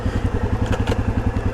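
A Yamaha Grizzly ATV engine braking on a first ride, a steady low pulsing engine chug with rhythmic throb, close and continuous.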